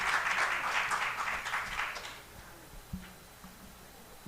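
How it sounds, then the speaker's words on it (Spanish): A modest audience applauds for Sor Suyapa at the opening of a Catholic women's gathering, with a brief patter of clapping that fades out within a couple of seconds into quiet room noise. "Un fuerte aplauso para Sor Suyapa."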